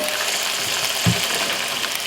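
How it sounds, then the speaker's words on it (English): Chicken pieces frying in olive oil in a frying pan, a soft, steady sizzle throughout with one small dull thump partway through. "we're going to put all of our chicken into the frying pan and get it started"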